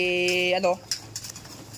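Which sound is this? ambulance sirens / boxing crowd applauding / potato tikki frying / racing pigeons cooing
racing pigeons cooing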